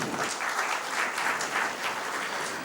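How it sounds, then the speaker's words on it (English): A big round of applause from the audience at a business industry evening event, dense and steady, with soft rising swells, and no talking over it. "let's give a big round of applause"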